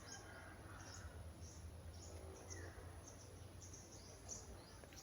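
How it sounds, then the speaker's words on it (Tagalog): Birds chirp and call intermittently across rural farmland, with faint high twittering over a steady low background hum and insect-like buzzing, no one speaking. "Ang ganda ng tunog guys ng mga ibon."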